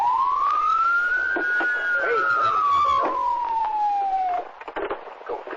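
A police car siren wails during a pursuit, one long rising-then-falling tone sweeping loudly across several seconds, with traffic noise and a voice underneath, then cutting off near the end.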